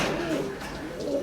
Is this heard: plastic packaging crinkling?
no